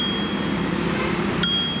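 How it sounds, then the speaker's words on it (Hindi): Twist bell on a smart electric bicycle rung once, a bright short ding over a steady background hum. "इस साइकिल में घंटी इसको घुमाने से बचती है"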